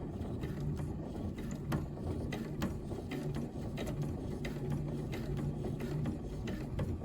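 Sewing machine stitching a jumpsuit seam, a close, steady rapid mechanical clatter of needle and gears running without pause, with no talk.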